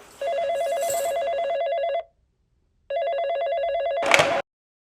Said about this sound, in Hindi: आपका फोन आया है, 2 मिनट बाद फिर आएगा